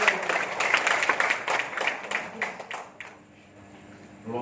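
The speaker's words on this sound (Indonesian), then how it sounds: "Tepuk tangan untuk Romo Siprianus." An audience at a parish scripture gathering gives applause for a priest, brisk, dense clapping from many hands that thins out and stops about three seconds in, leaving a quiet pause.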